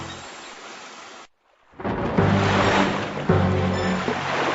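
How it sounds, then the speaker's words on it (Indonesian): Heavy rain and wind roar over crashing surf, stopping abruptly for a moment of near silence, then surging back louder and continuous. "Sepertinya akan terjadi badai. Lihat, hujan mulai turun."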